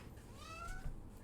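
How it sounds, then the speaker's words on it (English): A pet cat gives a single short, rising-and-falling meow, faint and fairly close in a quiet indoor room. "You'll hear my cat a lot."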